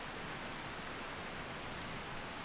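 Steady rain falling in the game Skyrim, an even, dense hiss of rainfall with no distinct drops or other sounds, continuous and fairly soft.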